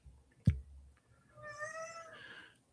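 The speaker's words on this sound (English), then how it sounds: "Meow." A cat gives a single drawn-out meow near the end, fairly clear and close, after a soft thump in an otherwise quiet room.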